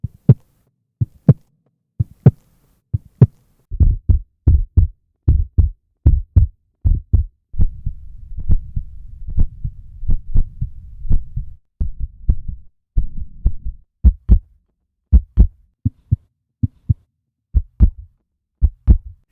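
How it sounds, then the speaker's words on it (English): Heartbeat sound samples from the 8Dio Hybrid Voices library play as deep, close thumping pulses in steady double-beat pairs, slightly varied in crispness and pitch, with a soft whooshing murmur underneath through the middle stretch. "these first heartbeats are not all exactly the same"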